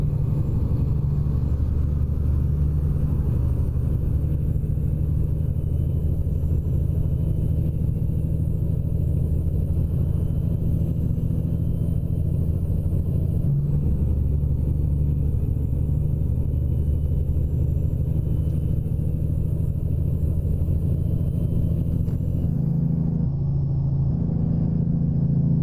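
A Freightliner Cascadia 2018 truck engine in American Truck Simulator rumbles steadily at a low, even pitch for a long stretch, close and continuous, with no voices.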